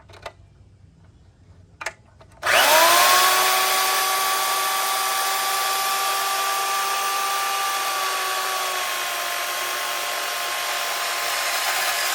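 A drill-powered cutting tool spins up abruptly after a couple of faint clicks, then runs at a steady high whine for about ten seconds, loud and close, while cutting mild steel exhaust tubing for a 1992 Acura Integra GS-R.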